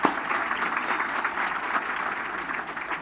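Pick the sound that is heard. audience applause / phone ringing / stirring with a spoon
audience applause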